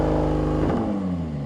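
A drag race car's engine holds a steady high-rpm drone on launch control, loud and close, then the pitch shifts and settles at a slightly different level for the rest of the brief moment.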